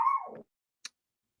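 A dog gives a single short, close bark that tails off quickly, followed by silence and a brief faint click.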